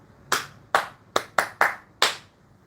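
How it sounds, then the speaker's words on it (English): Six sharp hand claps at an uneven pace, the third through fifth bunched close together, close and fairly crisp in a quiet room with no talking. "He should clap for himself like this."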